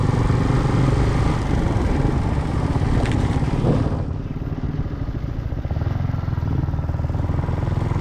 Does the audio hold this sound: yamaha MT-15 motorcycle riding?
yes